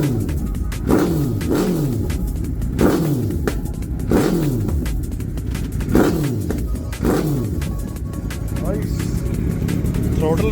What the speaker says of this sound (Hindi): आवाज़ टोटली चेंज हो गई है बाइक की